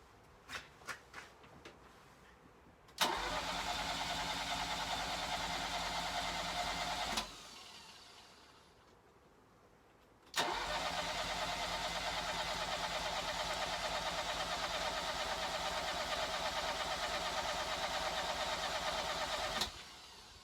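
Cold Ferrari 308 engine on a cold morning, a few clicks and starter cranking, then it catches into a loud steady run, cuts out, and restarts for a long sustained run close by with no talk.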